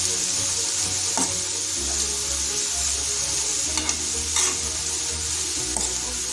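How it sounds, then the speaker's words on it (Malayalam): Chopped taro root and taro leaves are stirred in a hot pan, with a steady sizzle throughout and scraping spoon strokes against the pan that come through at irregular moments. "ഇനി ഇത് നന്നായിട്ട് ഒന്ന് നമുക്ക് അടി ചേർത്ത് ഇളക്കി കൊടുക്കാം"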